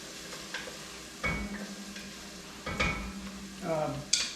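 Yellow onion and garlic sauté in a pan, a soft sizzle running underneath, with several close, scraping stirs and a light utensil clink.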